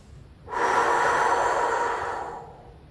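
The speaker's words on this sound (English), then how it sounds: "hold for 4, breathe out for 4 through your mouth" One long audible exhale through the mouth, close and breathy, lasting about two seconds before fading out.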